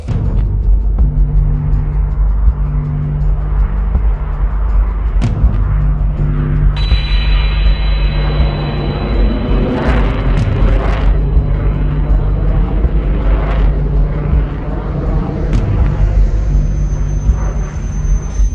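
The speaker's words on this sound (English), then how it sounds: "And then they would fly these B-52s in what they considered carpet bombing, arc light strikes." A steady, loud low rumble of heavy aircraft engines runs throughout, fitting a B-52 bomber, with a sustained droning tone and some higher whine entering midway; no one speaks.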